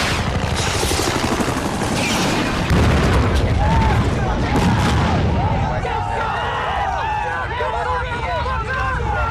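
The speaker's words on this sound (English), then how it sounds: "missile away." A missile launch and explosion in a film scene, with a loud rumbling roar and booming blasts, followed by debris and crackling noise, heard amid dense battle noise and radio-style chatter.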